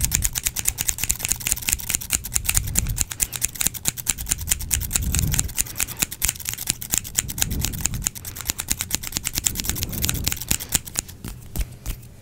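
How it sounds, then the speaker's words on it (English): Rapid, steady snipping of scissors cutting hair, close and crisp, continuing without pause for several seconds. "Scissors, I love these scissors."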